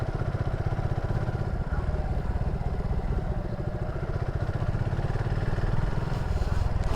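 A motorcycle ridden near Jaflong in Sylhet, Bangladesh, gives off a steady, close engine drone with a pulsing low throb that holds for the whole stretch, and no one speaks.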